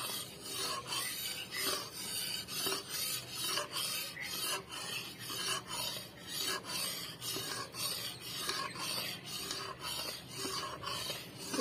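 A milk powder burfi mixture is stirred in a pan, with steady rhythmic scraping and rubbing strokes, close and fairly quiet, repeating evenly without talk.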